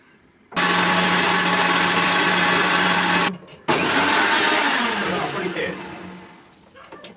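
A loud mixer grinder blending lassi of curd and sugar whirs steadily for a few seconds, stops briefly, then runs again before winding down.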